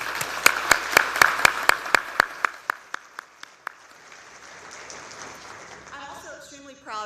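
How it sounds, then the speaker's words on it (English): At a university hall of fame evening, a round of applause is led by a few sharp, evenly spaced claps close up that slow and fade out before a voice starts talking. "let's give them a round of applause"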